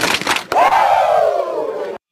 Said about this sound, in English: Let me get 2 claps and a Ric Flair.